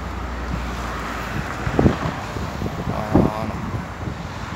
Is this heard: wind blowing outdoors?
yes